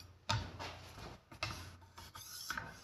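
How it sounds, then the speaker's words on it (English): A vintage Wusthof chef's knife edge is drawn across an abrasive several times to take off the burr, giving three or four separate dry rasping strokes that are close and fairly quiet, with no talking. "We're gonna cut that burr off."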